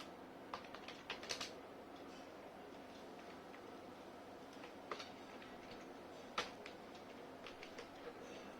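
Typing on a computer keyboard, scattered irregular key taps and short bursts heard close by but fairly faint over steady room noise, with no voice.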